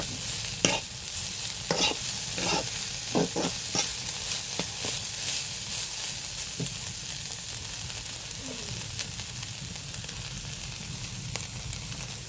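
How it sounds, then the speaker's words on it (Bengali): Chicken pieces sizzling steadily in a hot pan under repeated scraping strokes of a stirring spoon, close and continuous, with no one talking. "এবার চিকেনগুলো দিয়ে দিলাম ভালো মতো আমি মিক্স করে নেব"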